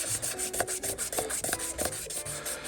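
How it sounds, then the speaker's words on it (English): Fine 400-grit sandpaper rubs by hand over a spiral-cut pen blank in quick, rhythmic back-and-forth strokes, soft and close with a dry rasp. "Now this is 400 grit sandpaper."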